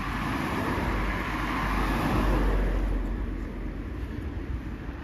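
Steady, loud rumble of busy road traffic at an early-morning roadside along a walking route, with cars passing continuously and swelling slightly before easing off, no voices.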